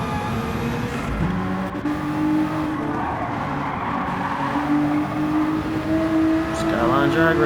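Nissan Skyline GT-R race cars in Gran Turismo 7 at the Nürburgring, loud engines revving and shifting up as they accelerate side by side, rising whine with a brief tire squeal, a voice talking over them.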